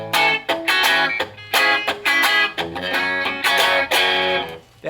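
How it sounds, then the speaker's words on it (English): Electric guitar with its two pickups wired out of phase, giving a thin, nasal tone, plays a run of bright chords and notes in short repeated bursts, loud and close with no talking. "what it does with the second on is reverse the wires so you get this out of phase sound"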